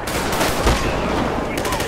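Dense, loud bursts of rapid automatic gunfire crackle continuously in the GTA 5 video game, with a voice faintly underneath.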